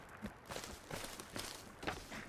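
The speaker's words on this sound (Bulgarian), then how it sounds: "Чувам от някъде други стъпки обаче." Footsteps in the video game Sons of the Forest, a soft, steady rhythm of muffled steps heard faintly and alone.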